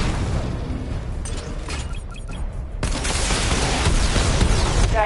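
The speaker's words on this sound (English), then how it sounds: "Missile barrage level 2 ready." A missile barrage fires in Batman Arkham Knight, heard as a dense, loud rumble of launches and explosive bursts. Near its midpoint the roar briefly thins, then it returns to a heavier, sustained roar.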